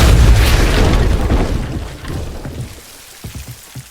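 A Depulso spell fires in a Hogwarts video game, a loud booming burst with a rushing crackling wash that fades over a few seconds, leaving faint scattered clicks.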